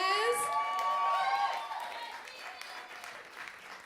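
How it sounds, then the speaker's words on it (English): Audience applause and cheering for vocal coaches at a singing competition finale, loud at first with some whoops and gradually fading over a few seconds while a voice talks over it. "Yeah, you can clap for the coaches."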